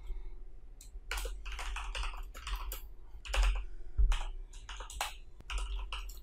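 Code being typed on a computer keyboard, a steady run of close, crisp key clicks in uneven bursts with brief pauses, heavier thumps now and then, no voices.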